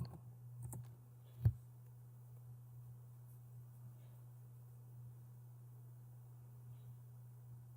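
A few quiet clicks on a computer keyboard as a command is typed, sparse and close, with one sharper keystroke standing out over a steady low electrical hum and no speech.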